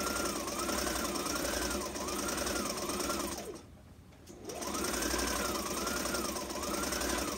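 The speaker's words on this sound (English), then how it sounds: "let's get our sewing machine and we're gonna sew." A sewing machine stitches a fabric face mask with a half-inch seam, running in a fast steady whir close by, pausing briefly mid-clip and then starting again, with no talk.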